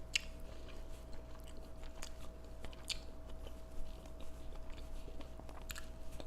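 Close, wet biting and chewing of a large mussel topped with creamy mayo sauce and fish eggs, with soft squishy mouth sounds and small crunches repeating steadily at a quiet level.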